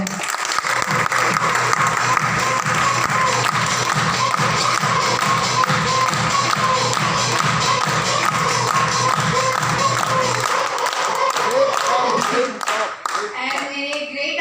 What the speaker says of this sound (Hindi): आप सभी लोगों के लिए बहुत जबरदस्त और जोरदार तालियां हो जाए